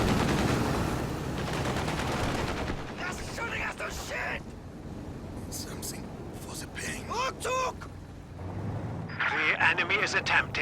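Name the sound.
machine gun fire in a video game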